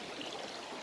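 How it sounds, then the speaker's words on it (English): Steady, close rush of river water flowing over rocks on the East Fork of the San Gabriel River, a continuous broadband wash with no voices. "I decided to take a walk through the river."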